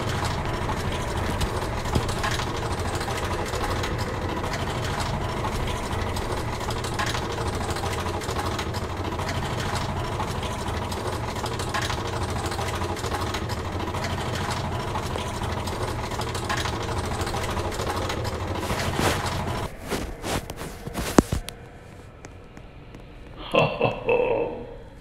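Steady low mechanical hum of an elevator rising inside a Roblox obby game, continuous and droning for about twenty seconds, then cutting off into a few brief clicks and a short burst near the end.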